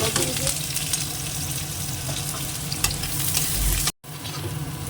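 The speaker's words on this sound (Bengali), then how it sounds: "পেঁয়াজটা হাফ ভাজা হয়ে গেছে" Sliced onion fries in hot oil with dried red chili and a little cumin, giving a steady, close, loud sizzle with occasional stirring scrapes and a brief dropout near the end.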